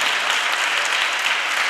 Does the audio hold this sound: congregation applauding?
yes